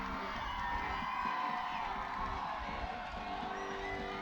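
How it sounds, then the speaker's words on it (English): Stadium crowd at a varsity men's rugby match cheering and whooping as the Gloucester team runs out, a broad, sustained roar with scattered shouts from far and near. "The cheers tell you everything you need to know about who the crowd want today"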